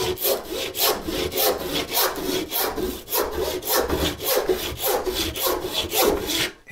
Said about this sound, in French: la coupe est plus facile à amorcer parce que la scie enlève moins de matière